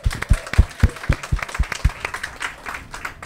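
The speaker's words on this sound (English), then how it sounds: "Let's have a round of applause for them." A studio audience applauds the chefs at a Chanuka house building contest, with sharp claps that fade into a looser, softer patter of clapping over a few seconds.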